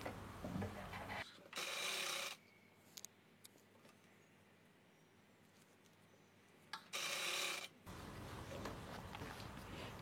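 A sewing machine stitches folded thread piping onto cloth in two loud, whirring bursts of roughly a second each, separated by a long quiet stretch with small handling noises.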